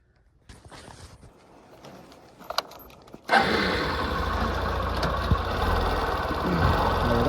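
Motorbike engine starting after some faint rattling and key jangling, then settling into a loud, steady idle rumble that continues close and unbroken to the end.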